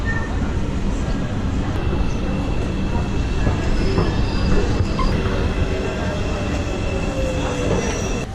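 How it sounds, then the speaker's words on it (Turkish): A train rumbles steadily past nearby in Istanbul, a loud continuous roar with faint wheel squeal and metallic tones throughout. "Allah tren geliyor"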